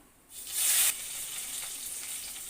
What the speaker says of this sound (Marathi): तेल आपलं गरम झालेलं आहे आता आपण त्याच्यामध्ये घालायचं आहे जिरं त्यानंतर घालायचं आहे तेजपत्ता